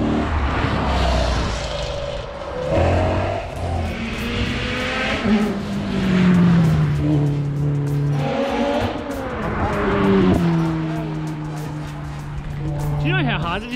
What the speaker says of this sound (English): You can hear the cars are going hard in the background.